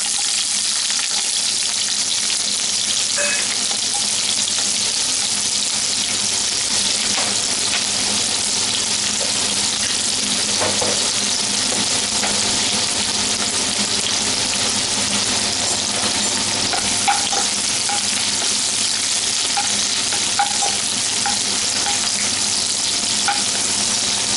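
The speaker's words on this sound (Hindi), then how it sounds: "और ये कुछ प्याज हमने काट कर रखा है छोटे छोटे टुकड़ों में, वो डाल देंगे।" Chopped onions sizzle steadily in a hot pan while being stirred for a Bihari-style stuffed bitter gourd dish, a constant dense frying hiss with occasional light scraping and clinks, close and without speech.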